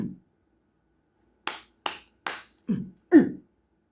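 Five sharp hand claps and slaps in a quick, uneven sequence form a friendly clapping handshake, close and crisp against a quiet room after a brief vocal sound at the start.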